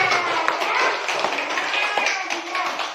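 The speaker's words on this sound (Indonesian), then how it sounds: "Tepuk tangan lagi ya." Classroom applause from a fourth-grade class in Indonesia, a dense, steady patter of many small hands clapping nearby for the full three seconds, with faint children's voices mixed in.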